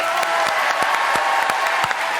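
TV studio audience applause on a French variety show, a continuous roar of many hands clapping close and loud, with a few sharper individual claps standing out.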